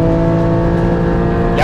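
A Porsche 718 Cayman GT4 with a naturally aspirated boxer engine and manual gearbox, driven on a race track, holds a loud, steady, close engine drone with a rising whine at the very end.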